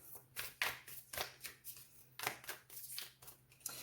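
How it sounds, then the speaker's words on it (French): Tarot cards are shuffled up close in a quick, uneven series of crisp riffles and slaps, about a dozen bursts, quiet with no talk over them. "J'arrive pas à battre mes cartes aujourd'hui."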